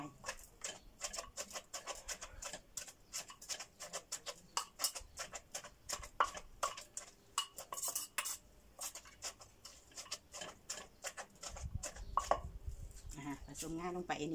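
Bamboo shoot salad with sesame is pounded in a mortar, producing rapid irregular thuds and scraping knocks from the pestle, close and fairly quiet, with a few heavier strikes toward the end.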